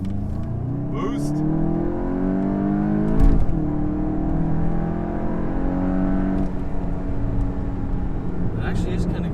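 A 2022 Volkswagen Golf GTI with DSG gearbox revs and accelerates up through the gears, close and loud, while people chat over it.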